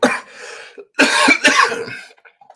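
A single soft cough is followed by two harsher, louder coughs close together, each sharp and raspy, heard clearly up close with no talking.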